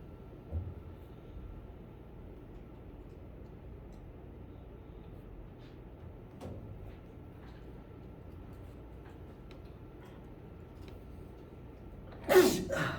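A single sharp sneeze bursts out near the end, loud and close, after a stretch of quiet lecture-hall noise.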